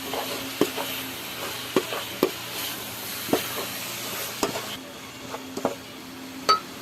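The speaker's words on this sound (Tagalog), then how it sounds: "Sabay haluin natin." Food stirred in a sizzling pan while cooking boneless milkfish, with a soft constant sizzle and a series of distinct utensil scrapes and knocks against the pan at irregular intervals, close up.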